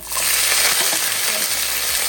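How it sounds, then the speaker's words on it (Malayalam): Mustard seeds spluttering in hot oil for a Kerala-style curry, a dense, constant crackling hiss with tiny pops, loud and close, with no voices. "കടുക് നല്ലപോലെ പൊട്ടിക്കഴിയുമ്പോൾ അതിനകത്തോട്ട്"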